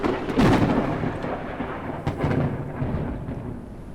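Thunder rolling through a storm in the video game Forever Skies, a loud close crack followed by a long low rumble that fades and swells again, with rain hiss underneath and no voices.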